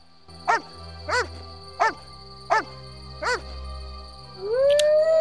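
A dog in The Witcher video game gives five short, evenly spaced howl-like barks over a low ambient game hum, followed by a rising, sustained howl at the end.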